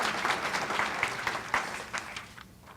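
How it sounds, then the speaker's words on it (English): Audience applause at a 2019 State of the City event honoring sheriff's department officers, loud and dense, swelling and then tapering off over a few seconds. "Let's give them a round of applause."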